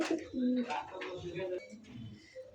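Indian pigeons coo in low, throaty bursts nearby at a pigeon farm, several calls overlapping, with faint chatter and other bird sounds in the background.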